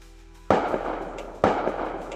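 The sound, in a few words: gunshots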